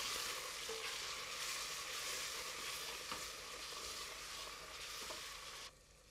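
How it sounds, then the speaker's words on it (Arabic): Meat and onions frying in a pan, a soft, steady sizzle with occasional stirring clicks that drops quieter near the end, close but fairly faint, with no talk. "اللحمه زي ما احنا شايفين اتحمرت، اضيف البصل"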